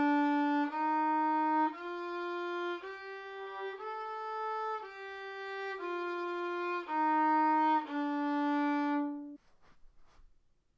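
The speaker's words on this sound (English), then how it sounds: "On the violin, it looks and sounds like this." A violin plays a slow sequence of about eight sustained bowed notes using a widened finger pattern, stepping up and back down, each note clear and close, then ending in near silence with a faint rustle.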